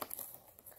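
Plastic packaging of a Tsum Tsum advent calendar crinkles and tears as it is opened, quiet close-up rustling in short bursts with no voices.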